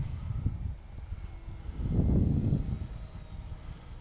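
A modded FT Flyer RC model airplane with a batwing setup flies in strong wind, its small motor a steady low drone that swells louder and nearer midway before easing off, with no talking.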